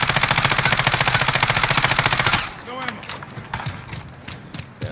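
An MP5 submachine gun firing in Call of Duty Warzone: a close, rapid, steady burst of automatic shots lasting about two seconds, then scattered quieter clicks and handling noises.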